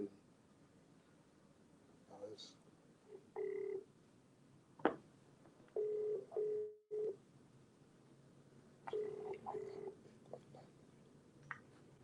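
Telephone dialing tones on a phone call during a live Q&A, several short steady beeps in separate bursts among faint background noise and low murmuring.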